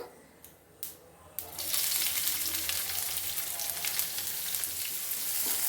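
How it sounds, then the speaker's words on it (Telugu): Onions and crushed garlic hit hot oil with a few sharp clatters, then settle into a dense, steady, close sizzle that keeps going to the end, with no one talking. "ఆనియన్స్ వేగేంత వరకు వేపుకుందాం"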